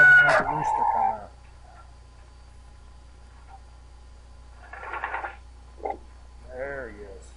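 A free-range rooster gives a short crow, followed after a quiet stretch by several clucks and soft calls from chickens at roosting time near an automatic coop door; fairly close and clear.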